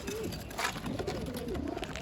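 Pigeons in a home loft coo steadily and close by, their soft rolling calls layered over a dense, constant background hum for the whole stretch.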